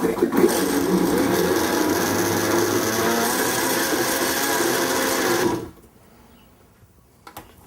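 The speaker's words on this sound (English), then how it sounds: "I'm going to put the lid on and I'm going to give it a blend. I'm just going to blend on low." A blender runs on low, blending a thick chowder with the lid on, a steady loud motor whir for about five and a half seconds before cutting off, leaving quiet room noise and a faint knock.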